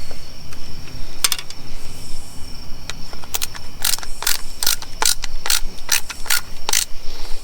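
Ratcheting screwdriver clicking in a garage during a custom AEM intake install, giving a run of sharp, close ratchet bursts in quick rhythmic sets, louder toward the end, with no talking.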